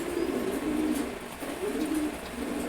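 Pigeons eating grit give low, rolling coos in a repeated rhythm, close by and moderately loud, with no talking.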